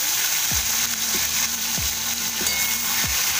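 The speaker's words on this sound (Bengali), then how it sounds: "ফোড়ন দিয়ে নিয়ে এবার টমেটো কুচানোটা এখানে দিয়ে দেবো।" Chopped tomato dropped into hot oil tempered with cumin seeds and bay leaf, giving a loud, dense, continuous sizzle up close, broken by several soft thuds and scrapes from stirring, without any speech.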